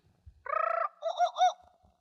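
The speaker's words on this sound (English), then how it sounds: "You will know it is time to turn the page when you hear the jungle bird call" Jungle bird call used as a page-turn signal on a vintage Disney Jungle Book read-along record: a single short squawking call that rises and then breaks into warbling hoots, alone against silence.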